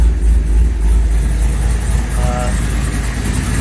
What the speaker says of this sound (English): started the car up